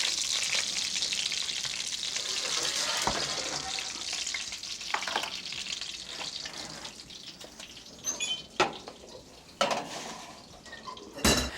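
Pork cutlets fry in a pan with a steady, fairly loud sizzle, broken near the end by a few sharper clatters and splashes like water running and pans being handled close by.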